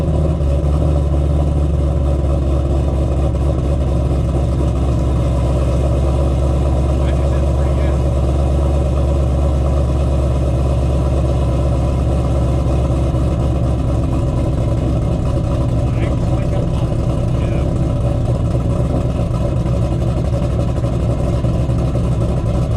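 A 2007 Shelby GT500 V8 with aftermarket cams, Kooks long-tube headers, X-pipe and stock mufflers rumbles deeply and steadily at a low idle, its throaty exhaust note holding constant throughout.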